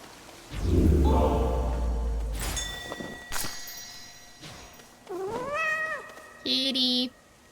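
A cat in the video game Hades 2 gives several clear rising meows late on, after earlier muffled low rumbling and clicks in the game's ambient backdrop.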